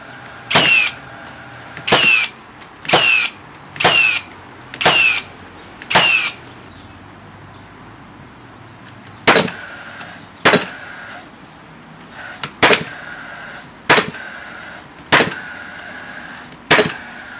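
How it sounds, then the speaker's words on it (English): Hilti and Hikoki cordless gasless framing nailers drive 90mm nails into Vitex hardwood, a dozen loud, sharp shots: six evenly spaced, then a pause, then six more, close and alone. "I'm going to fire about half a dozen 90mm nails into 96mm of Vitex hardwood"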